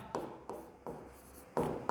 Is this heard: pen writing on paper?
yes